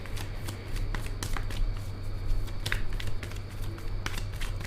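Tarot cards drawn and shuffled from a deck during a reading, giving soft papery flicks and slides in a steady cluster of brisk riffles, close and quiet, with no talking.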